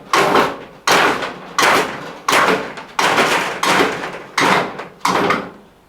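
A garage roller door being lowered during installation, giving a series of about eight loud, regular clattering thuds roughly every 0.7 seconds as the panels fold and settle, with no voices.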